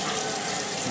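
Warm water runs steadily from a bathroom tap into a sink during face washing, a continuous close splashing flow with no talk.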